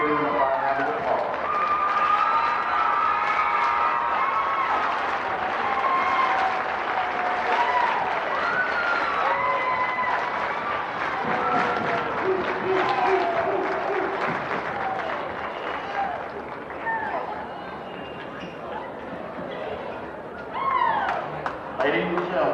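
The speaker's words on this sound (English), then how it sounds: "Ladies and gentlemen, please give them a fine round of applause." Basketball fans in a high school gym give a round of applause for the varsity boys game, a long rolling wash of clapping and crowd noise with voices and shouts mixed in.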